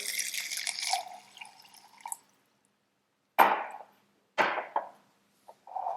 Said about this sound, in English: just enough to kind of cover the bottom, and just add a bit of water.